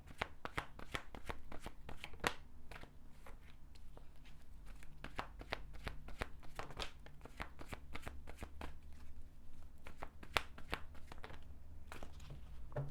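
Oracle cards shuffled by hand for a tarot-style reading, a steady run of dry riffling and flicking snaps for about thirteen seconds, close and fairly quiet with no talking.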